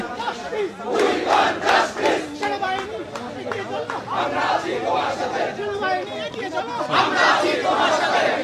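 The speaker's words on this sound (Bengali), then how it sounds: "তারা কিন্তু বারবার বলছেন স্বৈরাচার নিপাত যাক, গণতন্ত্র মুক্তি পাক, এমন স্লোগান তুলে তারা জাহাঙ্গীর গেটের দিকে এগিয়ে যাচ্ছে" Marchers in a street protest chant slogans together in rhythmic, swelling waves of massed voices, loud and close, with shouting and crowd noise between the chants.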